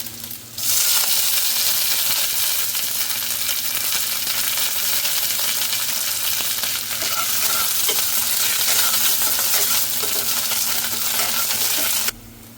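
Chopped garlic and curry leaves frying in hot oil with mustard seeds for a potato thoran, a steady loud sizzle with faint crackles and pops running unbroken for about twelve seconds before cutting off.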